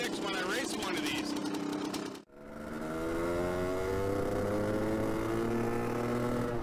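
A 1985 KTM 500 MX two-stroke dirt bike engine revs hard and loud up close, briefly cutting out before climbing again into a sustained, rising high-rpm wail.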